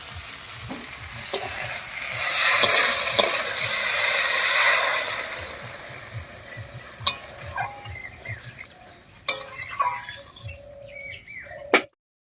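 Spiced pumpkin and mung dal sizzles and hisses loudly in a pan as water goes in, the frying swelling and then settling into quieter bubbling with scattered clinks of a spoon.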